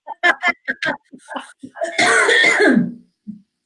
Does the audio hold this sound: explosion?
no